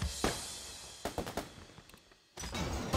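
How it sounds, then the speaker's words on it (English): Bombs going off in the video game Bomb Club Deluxe: a few sharp crackling bursts, a cluster of quick pops in the middle and a longer blast at the end, all fairly faint and with no talking. "I thought I didn't successfully explode this bomb"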